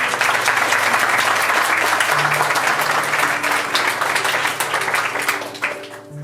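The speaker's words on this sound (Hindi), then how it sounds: "तालियां बजाना जरूरी है" An audience at an Ichha Foundation Q&A session on addiction breaks into applause. Close, sustained clapping holds strong for several seconds, then thins out toward the end while a faint tone hums underneath.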